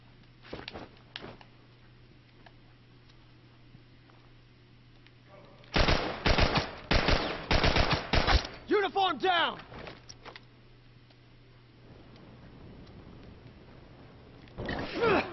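Heavy rifle fire in The Last of Us multiplayer, a cluster of loud rapid shots after a few faint distant ones, followed by a short scuffle-like rattle, with some speech in the background.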